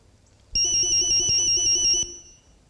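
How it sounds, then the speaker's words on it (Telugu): A mobile phone ringtone sounds loud and close: a bright electronic melody that starts abruptly, plays for about a second and a half, then cuts off, with no one talking. "ఇదేంటి నా సెల్ కూడా రింగ్ అవుతుంది?"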